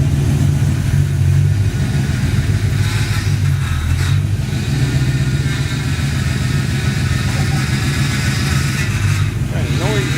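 A 1955 Chevy truck engine runs steadily at close range, a low continuous rumble with a slight rise in revs, while people talk over it.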